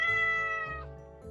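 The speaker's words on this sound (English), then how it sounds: "It was a kitten." A small kitten gives one drawn-out meow that falls in pitch, then starts a short second call, close and clear with nothing else around it.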